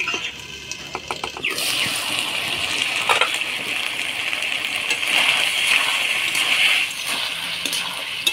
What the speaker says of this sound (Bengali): এবার অল্প মশলা বাটি দেওয়া জল দিয়ে পেঁপেটা ঢেকে দিব।